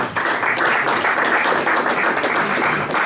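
Steady, loud clapping from a crowd at a cultural gallery event in Sucre, many hands blending into a thick continuous wash throughout.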